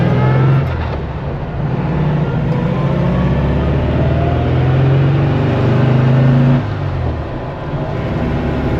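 A restored 1959 VW Beetle with a fresh 36 horsepower engine revs up close, a steady air-cooled drone that swells and dips in pitch over several seconds, loud and alone without talking.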